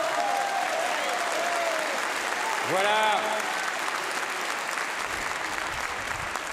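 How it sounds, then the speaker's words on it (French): Steady applause from an audience at a political rally in Chambéry fills the whole stretch, dense and even, with a brief rising tonal sweep partway through. "Oui, vous pouvez applaudir Jean de La Fontaine."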